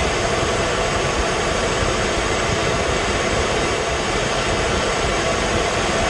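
A continuous jet-engine roar from a red toy fighter jet, loud and steady for several seconds with no talking.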